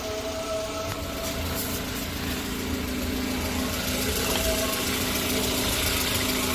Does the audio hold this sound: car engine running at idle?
yes